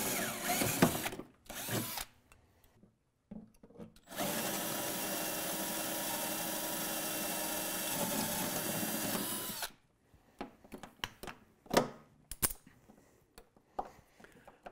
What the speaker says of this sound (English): They're just aluminum rivets, they're not too hard to get out.